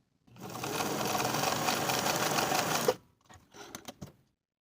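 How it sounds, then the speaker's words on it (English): A sewing machine basting the raw edges of a pant pocket runs in a single close, steady burst of under three seconds, then stops, followed by a few light handling clicks. "Baste the raw edges together."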